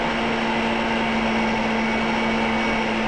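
An electric mixer beating gingerbread dough at a higher speed, a loud, steady motor whine with a constant hum that holds unchanged from start to finish.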